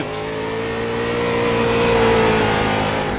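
Race cars roar around Langley Speedway during an all-star event, a loud, sustained engine drone that swells as the cars push on, with no talk over it.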